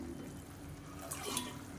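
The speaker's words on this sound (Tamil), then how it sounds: "இது வந்து சுடு தண்ணி தான் நான் சேர்க்குறேன்." Hot water poured into a simmering kurma side dish in a home kitchen, a soft steady liquid wash that swells briefly near the end, with no talking.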